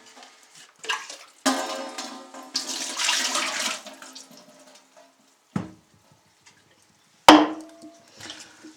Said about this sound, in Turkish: Ortadaki karbon filtremizi açıyoruz. İçinde su olduğu için yine suyu geliyor.